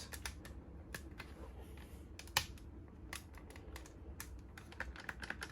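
A screwdriver clicks repeatedly while driving screws during a Thousand Jacker extension install, with sharp close taps in irregular bursts and one louder snap, no voices.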